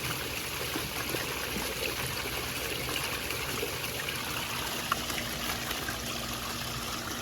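Water being poured over a sifting screen at a cave gem-mining sluice, a steady even wash of trickling and streaming liquid, continuous and moderately close with no talk.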